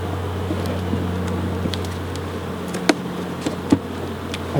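Honeybees buzz steadily at an opened hive, a dense droning hum close by with a few louder passes of individual bees near the microphone.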